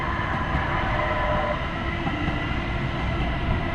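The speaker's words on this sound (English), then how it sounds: "it looks like another test train rolling through" A Metro A Line test train rumbles steadily through a station at close range, a continuous heavy roar of wheels and machinery filling the whole stretch with no voices.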